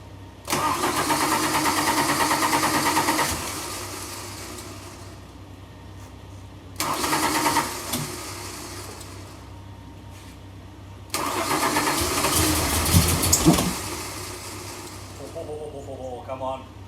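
A 1992 Ford Falcon EB that has been sitting cranks over in three long bursts, its starter churning loudly up close while the engine struggles and fails to catch, with quiet pauses and voices murmuring in between.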